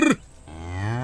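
A buffalo bull lowing in a long, rising moo that swells and holds steady, preceded by a brief sharp knock, close and loud with no talk.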